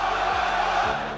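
A live crowd at an RLCS Rocket League event chants in a dense, steady roar that fills the short moment without a break.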